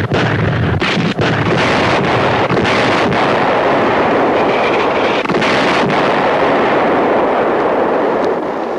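Artillery fire in a combat scene from a 1966 war television drama: a loud, continuous roar of blasts and rumbling that fills the whole stretch, with sharp bursts near the start and a wind-like wash throughout.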